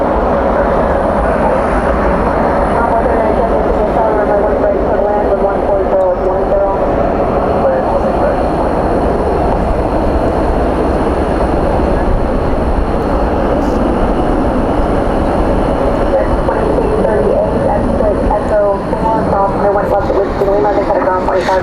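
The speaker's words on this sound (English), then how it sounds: "Spoilers out. Spoilers up, reversers out." An airliner touching down at night at Dallas/Fort Worth airport with spoilers up and thrust reversers deployed, a loud, steady roar of engines and rushing air sustained throughout, with people talking over it.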